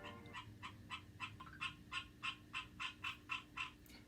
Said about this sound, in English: That's my green tree frog.